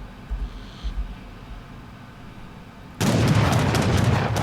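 Age of Empires III cannon volley during a competitive match: a few soft distant thumps, then a sudden loud dense roar of overlapping blasts and crackle that holds steady to the end, with no talk.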